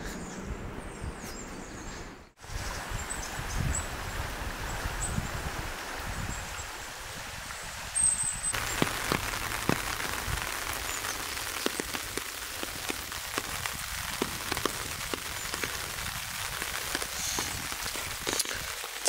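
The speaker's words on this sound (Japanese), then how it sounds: "非常に雨です。" Steady rain at Kamikochi in the Japanese mountains, a dense, close hiss of drops pattering on surfaces with scattered louder splashes, continuing throughout without voices.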